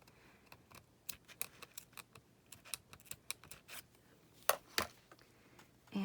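Scissors snipping paper pieces for a junk journal made from a gelatin box, a quick series of sharp close clicks and snips, irregular and quiet, with a couple of louder cuts near the end.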